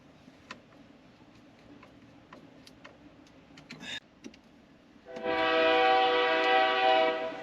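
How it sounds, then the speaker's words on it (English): A train rolls past near a house where a 1972 Monte Carlo's GM tilt steering column is being repaired, and its loud sustained horn blasts up close near the end. Faint ticking and clicks come before it. "There's that damn train."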